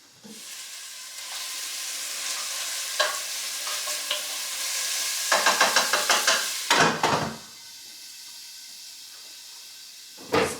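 Squash and plantain frying in a pan give a steady close sizzle and hiss, broken by a run of scraping stirs and clinks partway through, then a quieter sizzle.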